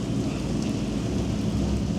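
Rain pours down at an outdoor supercar event in a city square, a dense, continuous wash of drops on hard surfaces with a low rumble beneath, steady and fairly loud with no talking.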